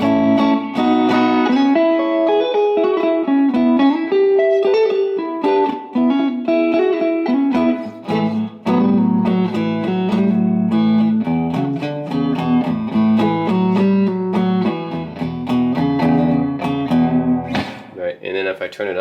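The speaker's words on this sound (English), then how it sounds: "you guys can hear exactly it's this really spring reverb" A clean electric guitar through a spring reverb effect plays chords and melodic lines continuously, a reverb tail splashing behind each note, with no talking.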